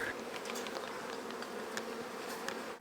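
Honey bees buzz steadily inside a hive, a dense, even drone of many insects with occasional individual wingbeats flicking past close by.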